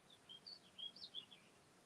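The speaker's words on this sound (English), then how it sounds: "I can hear all the birds song" Birds chirp outdoors in a few short, faint, high tweets scattered over a quiet background, with no voices.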